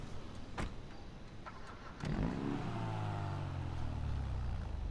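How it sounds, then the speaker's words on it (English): A car engine in GTA 5 Online cranks and turns over, then settles into a deep, bassy idle with a falling rumble, close and fairly quiet. "I'm really curious to check if at all the startup sound has changed"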